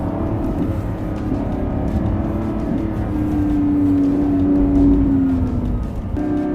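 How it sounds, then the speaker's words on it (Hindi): A Lamborghini Revuelto's V12 engine revs loudly up close in sports mode, its droning tone climbing and holding before dropping away, with no voices. "अब आप इस V12 इंजन का मैजिक सुन सकते हैं।"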